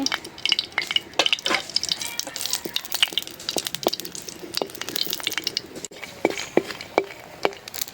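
Chilli, onion and garlic frying in oil in a hot wok, with dense crackling sizzle and quick scraping and tapping of a spatula in an irregular rhythm, close and fairly loud.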